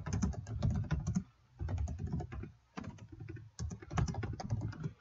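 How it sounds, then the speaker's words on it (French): Someone types text on a computer keyboard in quick bursts of clicking keystrokes separated by short pauses, close and fairly quiet, with no talking. "je tape mon texte"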